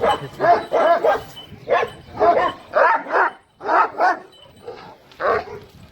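Kangal dogs barking at a neighbour's dog, a run of loud, close, repeated barks with short gaps, some yips and whimpery tones mixed in.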